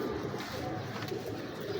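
An old breeder pigeon gives soft, low coos close by, a continuous murmuring call with no one speaking over it.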